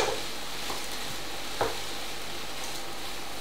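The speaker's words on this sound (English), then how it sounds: "we're going to stir that around now so that the rice gets coated in the olive oil" A spoon stirring risotto rice coated in olive oil and vegetable juices in a hot pan, a steady soft sizzle with a few faint scraping strokes, no talking.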